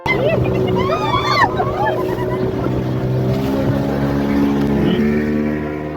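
A motorboat carries passengers from the river mouth at Ariyankuppam out to sea near Pondicherry, its engine droning loud and steady throughout, with wind noise and a brief whistling tone early on.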